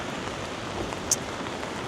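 A heavy rain downpour in downtown Toronto makes a steady hiss of drops on surfaces, with one brief sharp tick near the middle and no talking.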